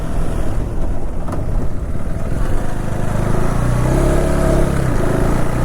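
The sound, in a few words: KTM 390 motorcycle tire spinning, engine revving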